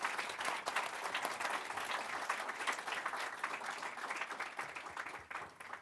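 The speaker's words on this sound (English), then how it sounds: "Can you please give a round of applause for our wonderful panelists?" A conference audience applauds panelists after a discussion, a dense sustained clapping throughout that fades slightly at the end.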